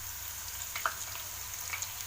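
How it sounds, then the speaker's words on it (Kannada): Potato slices for spicy chips frying in hot oil, a faint, steady hiss with a couple of small pops, heard alone and at low level. "ಒಂದೊಂದೇ ಸ್ಲೈಸಸ್ ಹಾಕ್ಕೊಂಡು ಫ್ರೈ ಮಾಡ್ಕೋಬೇಕು"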